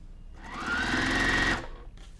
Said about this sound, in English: Put it under your machine, start at the edge, and start sewing.